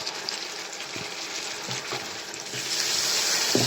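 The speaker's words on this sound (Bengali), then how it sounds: "এবারে আমি রসুন বাটা দিয়ে দিলাম একটা চামচ" Garlic paste fries with onions in a pan, giving a close, continuous sizzle that grows louder and hissier toward the end, broken by a few soft stirring knocks.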